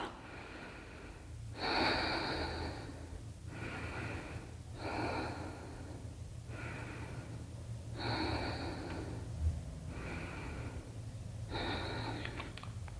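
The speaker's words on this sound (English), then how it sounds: "we're going to take again 5 nice deep breaths" Slow, deep yoga breaths drawn in and let out through the nose in a steady rhythm, about six breath cycles with audible airy rushes, close and clear over a faint low hum, with no talking.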